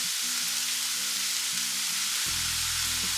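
Broccoli fries in hot oil in a pan for a Kerala broccoli egg thoran, giving a loud, continuous close-up sizzle with no pause. A low hum runs underneath, and a deeper tone comes in partway through.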